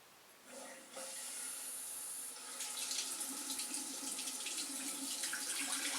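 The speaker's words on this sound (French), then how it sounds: "Alors, je mets en eau." Water rushes steadily into a newly installed toilet cistern fitted with a Wirquin Tronic touchless flush, a hissing fill that starts softly, then jumps louder and continues without a break.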